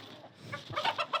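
Aseel chickens roaming outside give a few short, quick clucks, fairly faint and close together near the end, over a quiet background.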